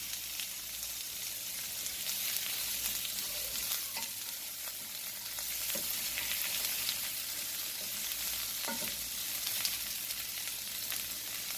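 Onions fry in oil for Jamaican-style escovitch fish, a soft continuous sizzle with light crackle and a few faint utensil taps, fairly quiet and close.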